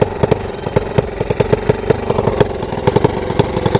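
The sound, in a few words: motorcycle engine idling with leaking exhaust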